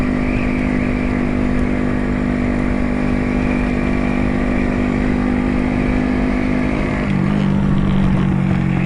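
Loud, close motorcycle engine with slash-cut exhausts holding a steady idle, a thick low drone that dips briefly in pitch near the end before carrying on; nobody speaks.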